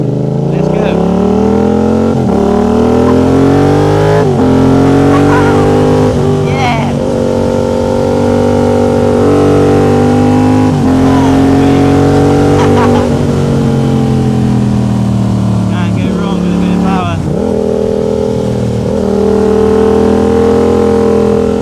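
A new motorbike's engine pulls hard while being ridden through traffic, its loud, steady harmonic drone climbing with the revs and dipping briefly at gear changes before rising again, with no one speaking over it.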